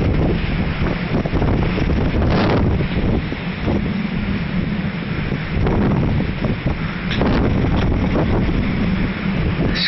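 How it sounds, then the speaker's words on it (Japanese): Waves wash onto the shore in strong wind, a continuous loud roar of surf with gusts buffeting the microphone and periodic swells of breaking water. "波が打ち寄せてるようです。"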